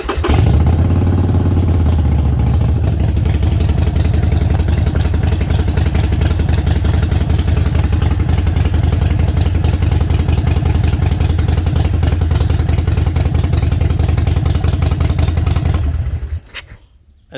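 A 2015 Harley-Davidson Sportster XL1200X Forty-Eight with a check engine light fault runs steadily, a loud, close, rumbling idle that holds throughout and then cuts off near the end.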